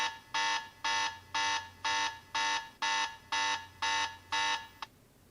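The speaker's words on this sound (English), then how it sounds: "We have alarm bell." An electronic alarm bell sounds in nine evenly spaced loud, bright pulses, each about a third of a second long, then stops abruptly.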